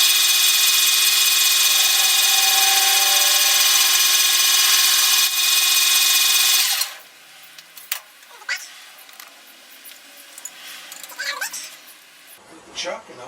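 A lathe drills a 27/64 hole at 430 RPM, giving a loud, steady high-pitched whine for about seven seconds that then stops. Scattered clicks, knocks and handling noises follow, and no one speaks.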